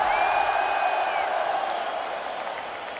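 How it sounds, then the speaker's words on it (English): A large arena crowd applauds and cheers at UFC 204 in Manchester, a loud dense wash of clapping that gradually eases over a few seconds. "Round of applause"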